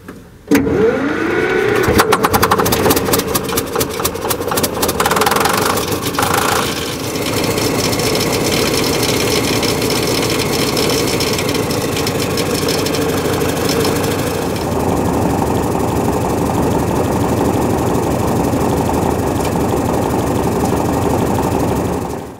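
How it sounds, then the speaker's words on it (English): A 1959 Caterpillar D7 bulldozer's diesel engine cranks and catches with a loud burst, then settles into a steady, heavy rumbling idle with a rhythmic knocking throb, close and continuous with no talking. "we're going to go ahead and see if the tractor will start. And if it starts, we're going to let it run and warm up a little bit."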